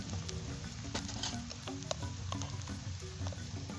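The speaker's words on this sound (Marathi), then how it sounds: "हा कांदा असा भाजत आलेला आहे चांगला भाजून घेऊया" Onion roasting in a pan for a village-style chicken dish, a faint continuous sizzle with light crackles and stirring scrapes over a low background hum.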